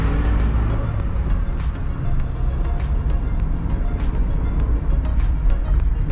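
Car traffic on a city street, a steady loud engine and tire rumble as a car swerves around a parked vehicle, continuous and close throughout.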